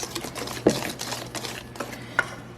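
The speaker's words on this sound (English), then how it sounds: "we're going to fold and whisk this in" Mashed bananas folded and whisked into banana bread batter in a bowl, producing soft repeated wet swishes and occasional whisk clinks against the bowl.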